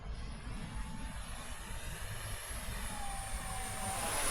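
An RC Draken model jet plane flies overhead with a steady, faint jet whine and rushing air that stays even, then swells slightly toward the end, heard alone at a distance.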